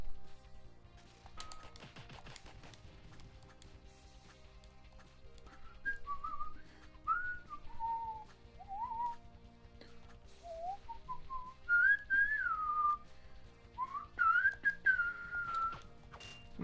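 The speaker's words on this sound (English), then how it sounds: "I'm not even whistling along to this song, I'm just doing my own thing" A lone person whistles a wandering tune of their own in short, clear phrases that rise and fall, fairly faint over quiet game music and small taps in the background.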